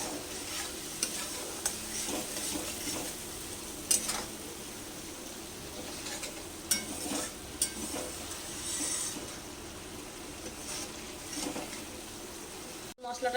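Masala spice paste with turmeric frying in a pan for potato dum, stirred steadily with a soft continuous sizzle and occasional scraping clicks of the utensil, close by, ending in a brief cut.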